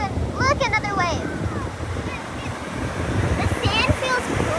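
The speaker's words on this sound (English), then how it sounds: "Here comes another wave." Ocean waves wash onto a beach with a steady, rushing roar and some wind noise on the microphone, while a high-pitched voice talks over the surf.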